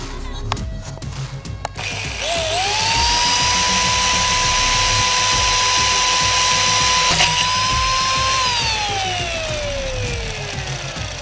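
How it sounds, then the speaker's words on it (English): A running chainsaw is struck by a machete, giving a loud, steady high-pitched mechanical whine with metallic grinding that holds for several seconds, then dips in pitch as the engine slows. "we're gonna see if what happens if a machete or a bladed weapon actually hits a chainsaw"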